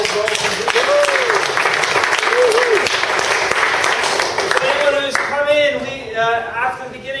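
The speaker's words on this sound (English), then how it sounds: "I just want to give a great big round of applause to Ryan Betts, Field CTO." An audience at a tech conference talk on modern operational databases gives a sustained round of applause, with a voice and some tonal sound over the clapping, fading somewhat near the end.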